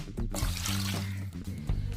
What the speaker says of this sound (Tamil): தேவைக்கு வேக வைக்கிறதுக்கு தண்ணி ஊற்றிடலாம்.